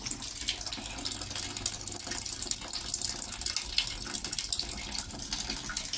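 Water runs steadily from a tap in a thin, continuous stream, a hissy trickle with no voices, close by and unchanging.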